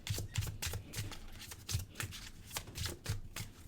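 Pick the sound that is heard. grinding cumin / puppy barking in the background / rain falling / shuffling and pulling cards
shuffling and pulling cards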